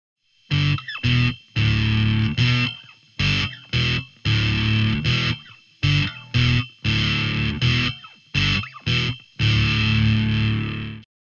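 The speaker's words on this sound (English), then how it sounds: "which is a distortion" A heavily distorted bass guitar through an Ashdown Perfect 10 amp plays a chugging riff of short, punchy notes with brief gaps between them, loud and alone.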